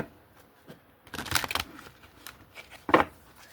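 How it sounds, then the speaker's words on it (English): Tarot cards riffle and slap together in a couple of quick shuffles, close and crisp, with quiet pauses between. "I think I want to shuffle another time."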